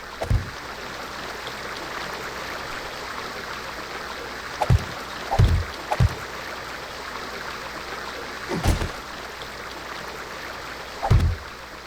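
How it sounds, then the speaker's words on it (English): Running water from a leak in the video game 7 Days To Die, a continuous trickling stream with several sharp thumps or clicks scattered through it and no speech. "hearing this running water makes me want to take a leak"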